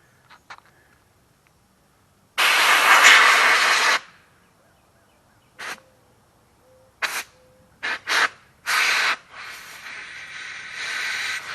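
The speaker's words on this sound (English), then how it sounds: "Let me take it over here with my air compressor real quick." Bursts of compressed air hiss from an air compressor nozzle as dirt is blown off a Craftsman 22-inch push mower carburetor: one long blast, then several short sharp puffs, close and loud in a quiet workshop.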